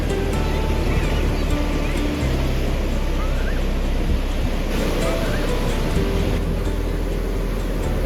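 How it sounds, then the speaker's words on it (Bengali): Ocean waves break steadily at Puri beach on the Bay of Bengal, a constant loud roar of surf with wind rumble across the microphone and no pauses. "এত জল এত বড় বড় ঢেউ দেখে আমি নাকি খুব ভয় পেতাম"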